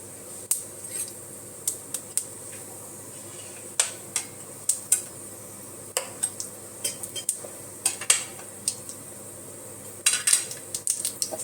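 Sharp little pops and crackles burst irregularly as mustard seeds splutter in hot oil in a pan, scattered one by one and growing busier toward the end.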